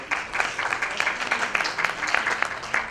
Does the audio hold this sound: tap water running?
no